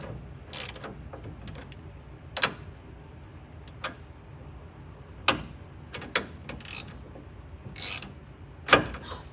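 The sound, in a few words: bolting together car suspension parts with a ratchet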